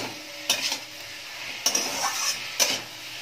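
Fried eggplant being mixed into softened spinach in a pan, three distinct metal spatula scrapes and knocks against the pan over a low, steady sizzle.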